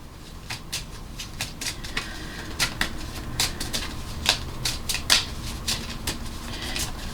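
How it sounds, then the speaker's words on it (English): A tarot deck is shuffled close by, with quick, irregular bursts of card riffling and shuffling over a soft background hum and no talking. "Let's just pull one card."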